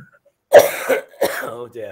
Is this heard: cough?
yes